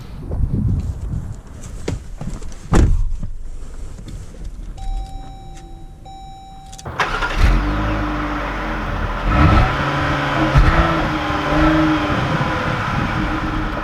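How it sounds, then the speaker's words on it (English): A 2020 Chrysler Pacifica 35th Anniversary Edition minivan, with chimes and clicks inside the cabin before the engine starts and settles into a steady hum with rising and falling tones while driving. "let's take out the 35th Anniversary Edition to see how it drives"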